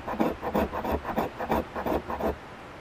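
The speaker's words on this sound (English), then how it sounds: "when you're getting in and you're doing that scraping" The 90-degree spine of a Habilis Bushtools Nessmuk camp knife scraping, with steady repeated rasping strokes in an even rhythm, close up and alone.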